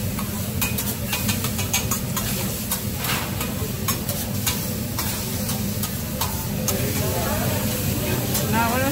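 Rice being fried with soy sauce sizzles loudly and steadily in the pan, with scraping stirring strokes cutting through the constant hiss up close.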